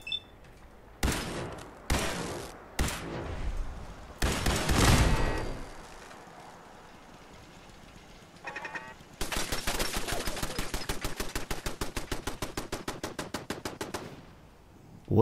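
A turret fires in Fallout 4, with several separate loud shots early on and then a long, steady burst of rapid automatic fire that rattles evenly for about five seconds. No voice speaks over it.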